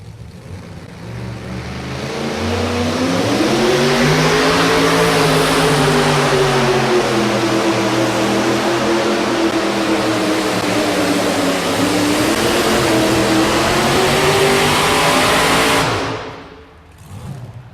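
A Ford two-wheel-drive pulling truck revs hard and loud for a long indoor pull at Freedom Hall in Louisville, the engine roar rising and wavering steadily, then dropping away abruptly near the end.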